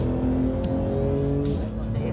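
A sports car accelerates hard in PDK Sport mode, its engine note steady and loud from inside the cabin as the revs climb through a gear, with a brief shift near the end.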